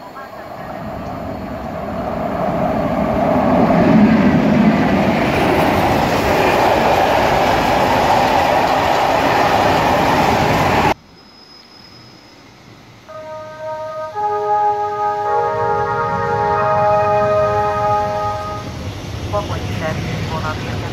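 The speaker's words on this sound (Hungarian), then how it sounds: "A vonat tovább indul Szombathely állomásra." Hungarian passenger train pulling out of a station bound for Szombathely via Veszprém: a loud, steady broadband rail rumble fills the first half, then cuts abruptly to quieter station ambience with a tonal public-address announcement.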